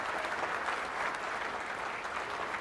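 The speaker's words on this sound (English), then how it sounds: "Let's give a round of applause for the staff for me" Audience at a Columbus, Ohio leadership gathering applauds the event staff, a steady, dense wash of clapping from many hands held at an even level throughout, with no talking over it.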